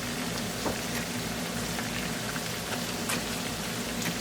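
Steady sizzling crackle of ginger, garlic and green chilies frying in a hot pan, a constant hiss with scattered pops, close and moderately quiet.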